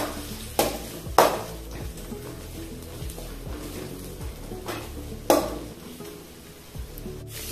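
Onion, garlic and ginger frying in a pan for an egg dish, with a soft sizzle under clinks and scrapes of a utensil against the pan and a few sharp knocks.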